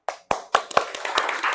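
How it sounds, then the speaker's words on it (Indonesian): Applause from a class audience: several bursts of hand clapping, thin at first and then filling into a steady patter of many hands close by, with no voices. "Kita beri aplaus dulu."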